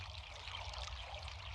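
Water from a spring flows and trickles in a steady, continuous burble, fairly faint and unbroken, with no talk.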